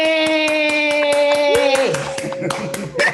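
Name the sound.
participants clapping after being unmuted in online meeting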